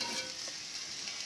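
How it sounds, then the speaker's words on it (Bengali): Rice being stirred in a hot pan, a soft steady sizzle with faint scraping under it, quiet and close with no voices. "ভাতটা দিয়ে দিয়েছি, আর এইভাবে নাড়ুন।"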